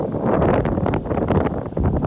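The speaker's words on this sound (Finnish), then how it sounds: "täällä tuulee ihan sikana" Strong wind gusts roar and buffet the microphone in uneven bursts, loud and continuous.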